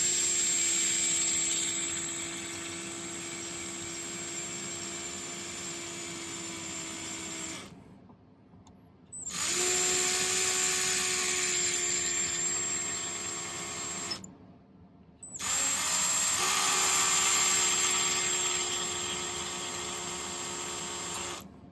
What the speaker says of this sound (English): I have a little tiny drill bit in my regular drill because it goes slower than my Dremel